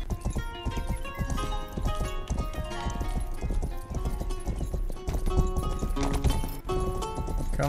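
Horse hooves pound in a fast galloping rhythm in the video game Rustler, loud and continuous throughout, mixed with game music and effects.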